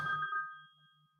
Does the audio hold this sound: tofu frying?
no